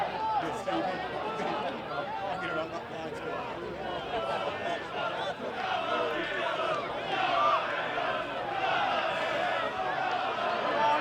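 Dense, continuous roar of a cricket crowd shouting and chattering as a tense Wood Cup match nears its finish, a steady wall of massed voices with occasional louder surges.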